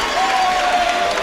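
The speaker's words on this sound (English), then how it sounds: "The crowd is literally on their feet." A crowd at an MMA fight cheering and applauding loudly, a dense continuous roar of clapping and shouting with a voice heard over it.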